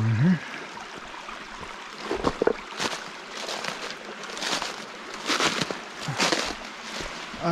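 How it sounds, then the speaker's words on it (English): Steady rushing trickle of water splashing over rocks at a small waterfall in the Middle Fork of the Illinois Bayou creek, close by, with a few faint bumps and movements on top. "I got a little waterfall in here."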